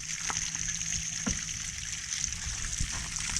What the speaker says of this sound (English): Cranked up the water. We got water coming out of all the orifices like they're supposed to be.